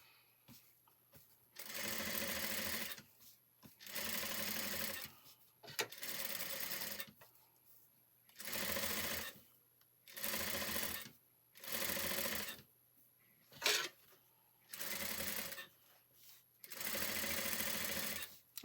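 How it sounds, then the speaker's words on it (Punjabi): Steady, close electric sewing-machine whirring comes in repeated bursts, each about one to two seconds long with brief pauses between, as a second seam is stitched along lace on a neckline. "ਹੁਣ ਆਪਾਂ ਦੂਸਰੀ ਸਿਲਾਈ ਵੀ ਲਗਾ ਲੈਂਦੇ ਇਸੇ ਤਰੀਕੇ ਦੇ ਨਾਲ।"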